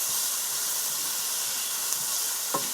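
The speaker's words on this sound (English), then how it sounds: "we're going to allow this to saute for 2 to 3 minutes" Loud, steady sizzle of peppers and tomatoes sautéing in a pot for a canned corned beef dish, a constant close hiss with a couple of faint clinks.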